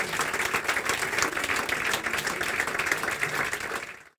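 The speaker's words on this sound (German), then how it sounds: "Applaus, Sven Ottke." A studio audience at a German celebrity talk show in Dinslaken breaks into loud, dense applause that holds steady before cutting off abruptly at the end.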